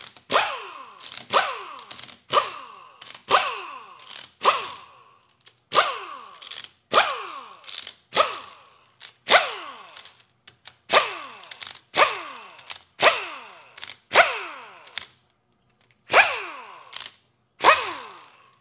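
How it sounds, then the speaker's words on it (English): Valve body bolts being loosened with a hand ratchet on a Toyota AB60F transmission from a 700 HP Tundra, heard as short, close, repeated bursts of clicking, about twenty in steady succession with brief pauses between them. "And the valve body bolts."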